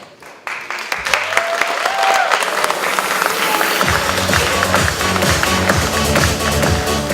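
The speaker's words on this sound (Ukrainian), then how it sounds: "І під ці щирі оплески запрошуємо." Audience applause at a regional sports awards ceremony, a quiet start giving way to sustained crowd clapping that grows fuller partway through, with scattered distinct claps and a faint rhythmic sound beneath.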